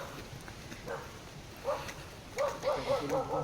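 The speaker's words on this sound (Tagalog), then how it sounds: "May tumatahol na na aso." Several short dog barks and yips from a dog on a farm, faint and somewhat distant, arriving in a quick irregular cluster toward the end over quiet outdoor background.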